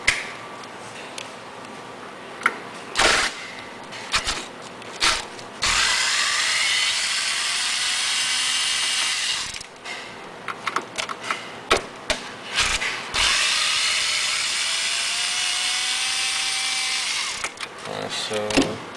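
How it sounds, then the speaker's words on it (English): A power drill fitted with a T20 bit backs fan screws out of an appliance, two sustained whirring runs several seconds each, separated by clicks, clanks and bit handling noises. "Grab the drill with a T20."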